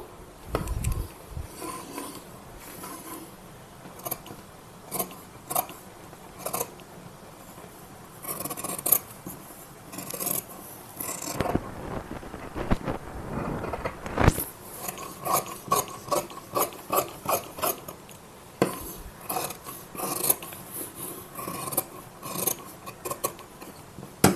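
Scissors cut through blouse fabric, giving repeated crisp snips and short slicing strokes up close at a quiet level, in irregular bursts with brief rustles between.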